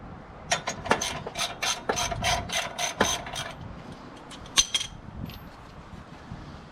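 A hand ratchet clicks in quick bursts as brake caliper bolts are removed on a 2009 Ram 1500 2WD, two runs of rapid close clicking separated by a pause, with no talking.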